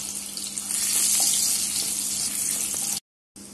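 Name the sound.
curry leaves and crushed garlic sizzling in tempering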